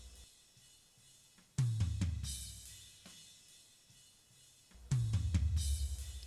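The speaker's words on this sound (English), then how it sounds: "we'll turn everything else off just so you can hear those toms" Drum toms soloed through a Yamaha M7CL mixing console: two bursts of deep tom hits, each a quick run of strikes descending in pitch and ringing out with long low decay, loud and close with nothing else playing.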